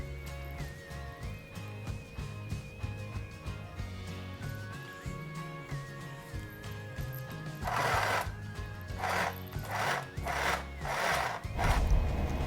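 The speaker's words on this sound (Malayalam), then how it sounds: "മെഷീന് അത്യാവശ്യം സ്പീഡൊക്കെ ഉണ്ട്, നല്ല സ്റ്റിച്ചൊക്കെ തന്നെയാണ് വരുന്നത്." Small electric sewing machine stitching cloth, a whirring motor hum at first, then several loud rapid bursts of mechanical needle clatter near the end.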